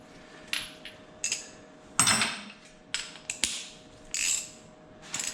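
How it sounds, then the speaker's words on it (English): A socket wrench cranks an axle nut in short, separate bursts of metallic clicking and clanks, close by and fairly faint, with pauses between strokes. "So I'm going to keep cranking this until I get it snug"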